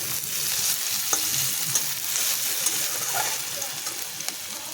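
Crushed garlic sizzles in hot oil for jackfruit seed dal, a steady close frying hiss with a few light stirring clicks and taps.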